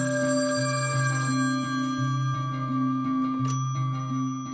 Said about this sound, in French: le téléphone donc a sonné